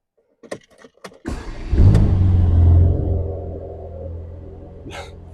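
A 2022 Mercedes-AMG GT Black Series engine cranks and catches with a sharp burst on a cold start, then roars loudly in a deep rumbling rev before settling into a high idle, close by.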